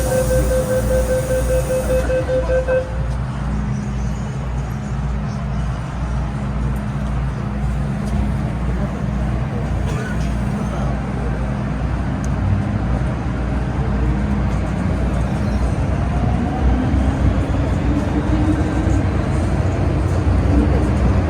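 An MTR Tsuen Wan Line M-Train runs between Jordan and Admiralty in Hong Kong, heard from inside the carriage as a loud continuous rumble of wheels and motors, with a brief tonal chime at the start and rising traction whine later.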